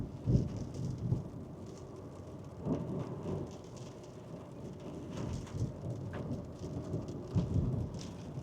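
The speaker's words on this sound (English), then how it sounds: "Here comes the rain again." Steady rain hisses down, with low rumbles of distant thunder rolling underneath at intervals.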